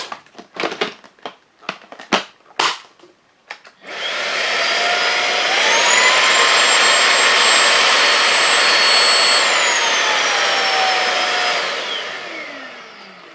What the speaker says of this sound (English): So once again, I'm going to try again to suck more out.